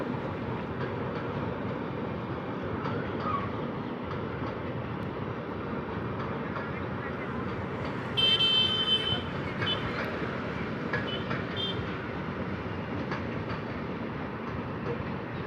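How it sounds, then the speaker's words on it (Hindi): The New Delhi–Amritsar Shatabdi, a locomotive hauling chair car and executive class coaches, rolls past near Mohali, a continuous broad rumble of wheels and carriages with a brief high squeal partway through. "न्यू दिल्ली अमृतसर शताब्दी आप देख रहे हैं।"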